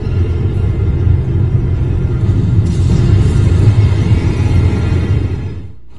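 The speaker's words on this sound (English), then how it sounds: "Have a thunderstorm in the snow." Low, continuous thunderstorm rumble in a snowy area of the video game Journey, a dense, loud roar that stays steady throughout and drops off slightly at the very end, with no voices present.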